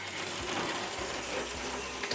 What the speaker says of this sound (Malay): Bunyi bising sikit sebab 3D print tu tengah loading.